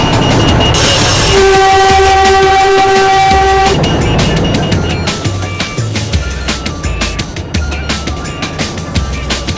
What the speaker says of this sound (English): The gradient steepens, the overladen train slows to a crawl.